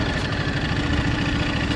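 A dirt bike engine idles at low revs, with a steady, rapid, throbbing pulse, while the rider eases it over an off-road obstacle such as a log or root; it is close and even, with no talking.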